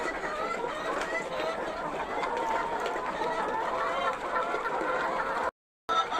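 A flock of chickens clucking at their feed, a dense, busy chorus of overlapping clucks and squawks heard up close, with a brief gap of silence near the end.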